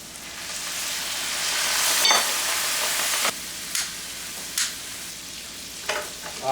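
Marsala wine sizzles and cooks down in a pan with shrimp, a steady close frying hiss with a few louder bursts of spatter and stirring, no voices.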